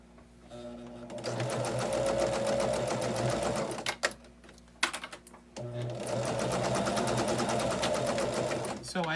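A sewing machine strip-piecing fabric for a table runner runs in long continuous bursts with a brief pause in the middle, steady and close, a faint voice now and then underneath.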